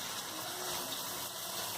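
Steady rushing of water draining off freshly rinsed cabbage and beetroot in a home kitchen, a continuous close wash of splashing with no pauses.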